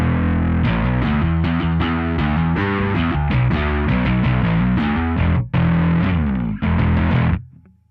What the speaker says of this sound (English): And then moving across to the alpha side.